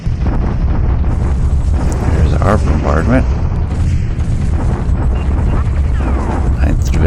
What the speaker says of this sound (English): Our bombardment